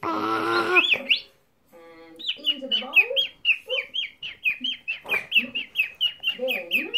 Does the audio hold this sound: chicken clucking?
yes